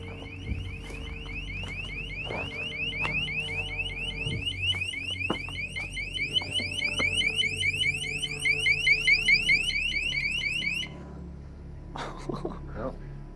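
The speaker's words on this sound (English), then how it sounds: "I think he set off an alarm." A car alarm in an abandoned mansion's garage holds a steady, loud repeating electronic tone for about eleven seconds, then stops abruptly. Faint clicks and rustling from people moving about continue afterward.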